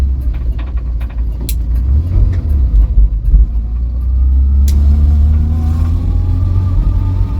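A barn-find Vauxhall Viva's engine runs with a deep, loud, steady low idle that rises into revving partway through, with a few sharp clicks and no voices.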